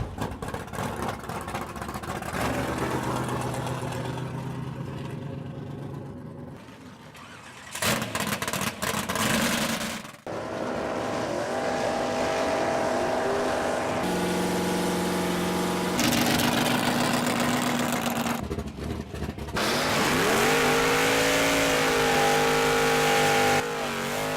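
Stock and super stock drag racing cars, including a Camaro and a Chrysler, rev and idle at the starting line, a continuous run of loud engine roars with rising revs and changing pitch.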